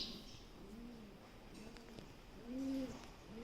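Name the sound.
pigeon cooing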